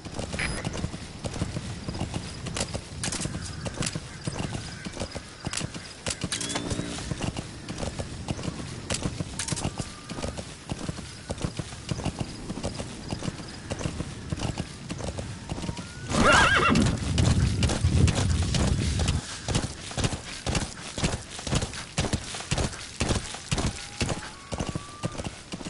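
Horse hooves clip-clop in a steady, rhythmic gallop in the Metal Gear Solid V: The Phantom Pain video game, close and continuous, with a heavier, louder stretch midway and occasional neighs.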